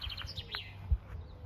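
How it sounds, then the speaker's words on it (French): Several small birds chirp in quick, light bursts outdoors near a parked camper van, a low rumble of wind or distant traffic underneath and one soft thump partway through. "Oh les oiseaux."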